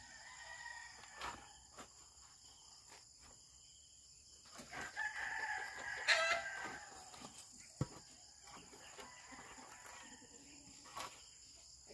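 A pet chicken being pestered by dogs gives a faint, strained crowing squawk outdoors in the countryside around the middle, set against steady cricket chirps and scattered clicks and knocks, all quiet and fairly distant.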